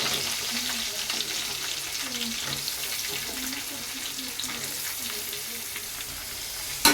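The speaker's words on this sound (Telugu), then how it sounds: "నేనైతే పచ్చిమిర్చి వేసేసాను వేగిపోయాయి ఇప్పుడు మనము ఉల్లిపాయలు కూడా వేసేసుకున్నాము" Green chillies and onions fry in a pan with a steady, close hiss and sizzle, along with light stirring and scraping throughout.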